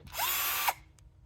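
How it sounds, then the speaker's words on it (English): A Bosch cordless drill spins up with a rising whine, runs briefly at high pitch and stops, close and loud, followed by a faint click. "First off, got my Bosch drill."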